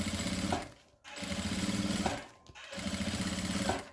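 A sewing machine runs a backstitch at the start of a seam while making a toiletry bag. It stitches in three steady, close bursts separated by brief pauses, with no talk.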